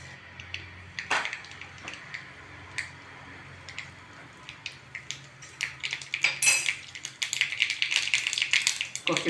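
Mustard seeds spluttering in hot coconut oil, sparse irregular pops at first that build into a rapid, crackling burst near the end.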